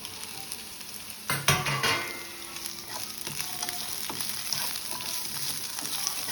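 Chopped onion and capsicum hit hot oil in a pan for aloo chilli and burst into a loud sizzle, then settle into steady frying with occasional stirring scrapes.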